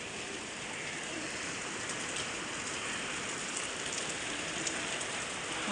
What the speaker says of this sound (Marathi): पाऊस दाखवते.